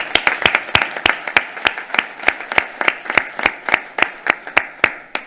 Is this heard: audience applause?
yes